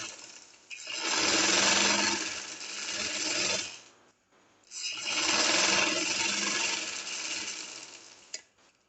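A sewing machine stitches lace onto a shirt in two sustained bursts of motor whir, the first running about three seconds and the second about four, with a brief pause between them. Close and steady, with no talk.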